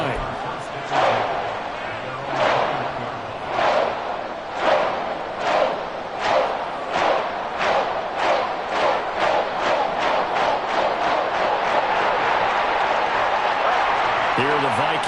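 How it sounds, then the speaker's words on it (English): Stadium crowd in an American football video game, Vikings against the Panthers, roars steadily with rhythmic surges of chanting and clapping, a loud, dense wall of cheering that builds toward a sustained roar. "this crowd has certainly liked what they've seen"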